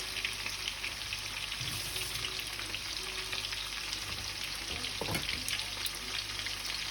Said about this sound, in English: if it sizzles like that, your oil is ready